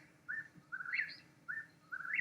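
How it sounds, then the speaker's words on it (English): A recorded Eastern Whippoorwill song plays faintly: repeated whistled phrases rise and fall in a steady rhythm, with short pauses between them, over low background noise. "Eastern Whippoorwill"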